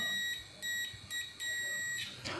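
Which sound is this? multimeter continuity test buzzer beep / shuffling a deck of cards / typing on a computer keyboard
multimeter continuity test buzzer beep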